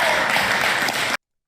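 Studio audience cheering and clapping at a political talk show, a steady dense wash of applause and cheers that holds loud for about a second before cutting off abruptly.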